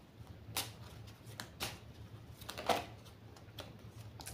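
Oracle cards being shuffled by hand: a run of soft papery riffles and flutters in irregular bursts, close and fairly quiet, with no talking.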